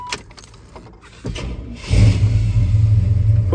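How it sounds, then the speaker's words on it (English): A 1989 Chevrolet C1500 pickup truck engine cranks briefly, then catches and roars to life, settling into a loud, rumbling idle after some clicks and rattles. "Fire this thing up."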